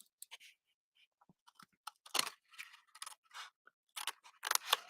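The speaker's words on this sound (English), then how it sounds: "we're going to just cut right up these score lines" Scissors snip through a cardboard box along its score lines, a series of close, crisp cuts and crunches in short irregular bursts, with quiet gaps between them and no talking.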